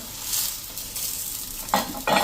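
Soft continuous sizzle of paratha frying in ghee over a low flame, with a couple of louder crackling bursts toward the end.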